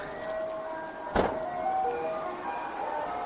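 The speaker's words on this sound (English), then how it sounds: "Ice cream truck over there." A nearby ice cream truck plays its tinkling, steady melody outdoors. A brief clatter comes partway through, and no one speaks.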